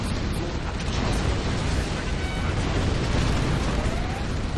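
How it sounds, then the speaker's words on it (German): Dense, continuous rumble of explosions and booming blasts from a C&C Generals Zero Hour battle, loud and unbroken with crackling bursts layered throughout. "der knallt und rumst es nur"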